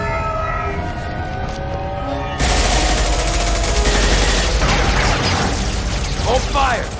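Dense, continuous gunfire and mechanical clatter erupt abruptly in a Mass Effect 2 combat scene, loud and sustained, with a siren-like tone underneath and voices speaking over the battle noise.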